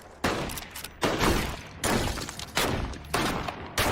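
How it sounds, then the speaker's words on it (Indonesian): Gunshots ring out in regular succession during target practice at Laurie's home in the Halloween film, with five or six loud, sharp blasts roughly every three-quarters of a second, each leaving a long, reverberant tail. "Di kediaman Laurie terlihat dia sedang berlatih menembak."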